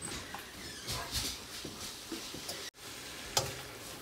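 Spoon stirring a baked stuffed mashed potato mixture in a pan on the stove, giving soft scraping and light sizzling that swells and fades, fairly faint and close, with no talking.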